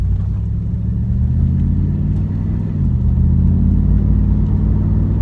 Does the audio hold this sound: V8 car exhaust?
yes